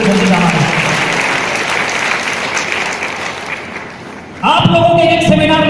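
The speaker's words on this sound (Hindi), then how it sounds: "जोरदार ताली से स्वागत करिए" A business seminar audience claps loudly and steadily to welcome a guest, a dense wash of applause that fades slightly before a voice takes over over the room.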